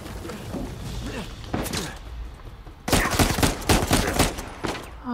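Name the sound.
gunfire from the video game Uncharted 4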